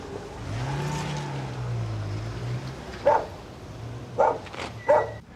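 A dog gives three short barks toward the end, fairly close, over a low rumbling engine hum in the background.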